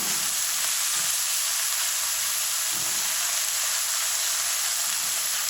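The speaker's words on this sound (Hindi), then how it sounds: "हम यहाँ पे अदरक लहसुन का पेस्ट है खाने का 1 चम्मच, ये ऐड कर देंगे। अब इनकी दोनों की भुनाई करेंगे थोड़ी 1 मिनट के लिए।" Ginger garlic paste frying in a pan for methi matar malai, a bright continuous hiss of sizzling oil with faint low stirring thumps underneath, steady and close, no voices.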